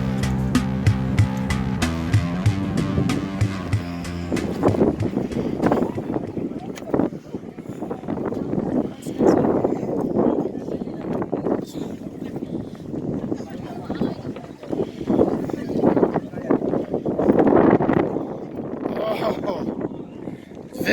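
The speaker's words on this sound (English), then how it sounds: "Very windy." Strong gusty wind buffets the microphone on the SkyBridge at Gatlinburg, a loud continuous roar with repeated blasts, while a person talks over it.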